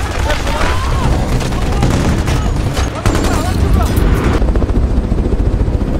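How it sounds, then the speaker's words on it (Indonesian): Sustained machine gun fire in a modern military combat film, dense rapid bursts of loud close gunfire continuing without pause, with a helicopter-like drone and booms mixed in. "mereka pun membalas tembakan musuh dengan senjata mesin yang mereka miliki"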